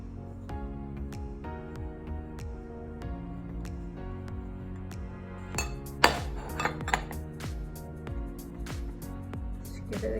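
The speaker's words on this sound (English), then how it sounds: "Let's give it a good mix." Corn flour and starch mixed in a bowl, with a spoon clinking and scraping against the dish, growing into a cluster of sharper knocks near the end over soft background music.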